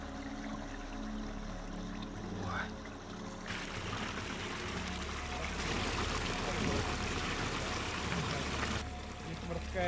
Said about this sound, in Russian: Вот интересно, речка течет.